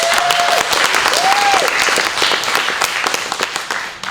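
An awards-night audience applauds to vote for a favorite film, steady dense clapping that stays loud throughout and eases slightly near the end, with a couple of brief whistles early on.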